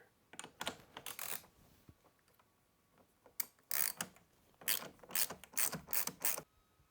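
A 10 mm ratchet loosening the negative battery terminal on an FL5 Civic Type R, heard as bursts of rapid close clicking separated by short pauses.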